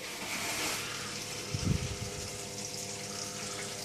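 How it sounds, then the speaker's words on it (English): A small electric water pump filling up in an off-grid setup, heard as a steady low gushing wash of water with a brief louder surge midway, no voices. "That's just the pump filling up."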